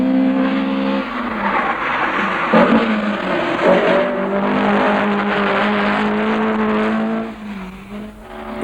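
A 1970s Vauxhall Chevette rally car driven by Jimmy McRae on a rally stage, its engine roaring loud and close as it passes, with tyre noise and a sustained drone that fades near the end.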